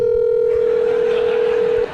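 An outgoing telephone call gives a loud, steady electronic tone that holds unbroken for nearly two seconds before cutting off abruptly.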